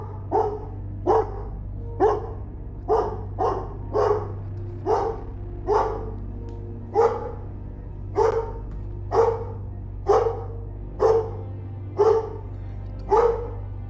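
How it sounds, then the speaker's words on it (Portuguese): A dog barks loudly and repeatedly, about twenty evenly spaced single barks in a steady rhythm, close by over a low constant hum, with no talking. "meu cachorro começou a latir alto também"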